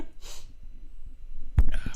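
A breathy intake, a pause, then one sudden, close sneeze burst near the end.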